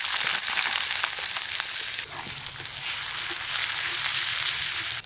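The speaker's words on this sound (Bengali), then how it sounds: "পেঁয়াজগুলো অল্প ভেজে নিলাম" Chopped onions fry in mustard oil with bay leaf, dried red chilli, whole cumin and garam masala, giving a steady, close, dense sizzle with small crackles throughout and no talking.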